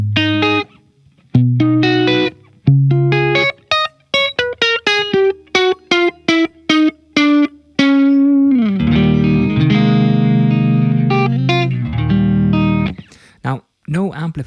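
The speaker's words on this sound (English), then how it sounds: "I'm playing my 1957 Music Master through the Strymon Iridium on the Marshall amp with the room knob set to 0" 1957 Music Master electric guitar through a Strymon Iridium into a Marshall amp with the room setting at zero, playing dry, distorted single notes and phrases, then sustained chords, close and upfront with no talking.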